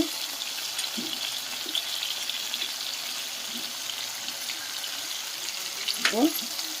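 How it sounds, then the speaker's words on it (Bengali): Garlic and ginger frying in a pan as they are stirred, a soft steady sizzle with faint scrapes and a louder stirring clatter near the end. "রসুন দিলাম আদা দিলাম দিয়ে একটু নাড়াচাড়া করবো"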